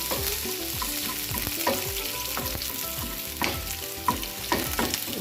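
Chopped onions and curry leaves fry in a pan, a continuous loud sizzle punctuated by repeated scraping stirs of a spoon against the metal.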